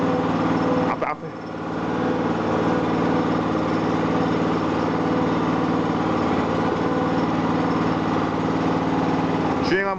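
A very small mini excavator's engine runs steadily while the machine moves, a continuous close drone with a couple of clunks, and people talk over it.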